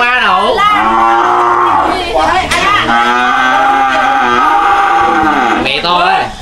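Cattle being delivered to a returning customer in Vietnam moo loudly in long, drawn-out, wavering calls that run almost continuously and close to the microphone.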